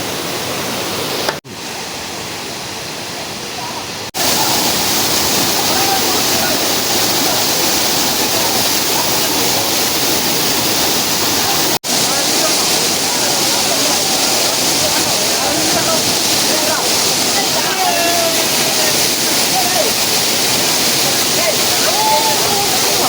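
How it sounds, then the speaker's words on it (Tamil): Panchalinga waterfall in the Thirumoorthy hills roars as a loud, constant rush of falling water, close by and unbroken for the whole clip. "இதுதாங்க அருவி"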